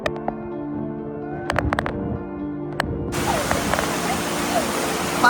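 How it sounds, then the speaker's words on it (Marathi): A waterfall in Pale village with strong wind: after a few seconds of faint voices and clicks, a loud, broad, steady rushing roar starts abruptly and fills the rest. "धबधबा आणि जोरदार हवा."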